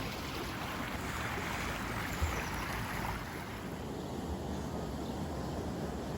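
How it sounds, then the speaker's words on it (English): Water running steadily along a mill race in the German countryside, a broad continuous rushing wash that stays close and even throughout, with no voices. "There is something very therapeutic about running water."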